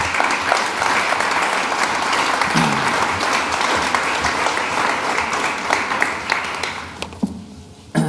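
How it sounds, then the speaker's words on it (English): Studio audience applauding a guest on a talk show, sustained loud clapping that fades out toward the end. "Can we give her a round of applause?"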